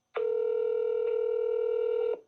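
A single long, steady telephone ring tone plays on an outgoing call to a car dealership's parts department, clean and continuous for about two seconds, then cuts off.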